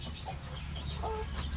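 A blue-legged chicken with very thin feathers gives a couple of short, soft clucks over a steady low background rumble.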